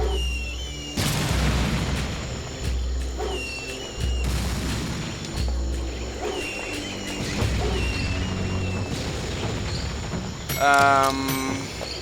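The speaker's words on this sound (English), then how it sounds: "Whoops, I just blew up that turret." A turret blown up in Serious Sam 2 on the Road to Ursul level, several loud booming blasts at irregular intervals over ongoing game noise, with someone talking throughout.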